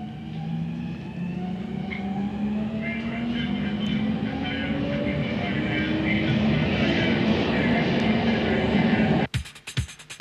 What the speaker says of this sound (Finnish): Juna lähtee vasta, kun kaikki ovet ovat kiinni.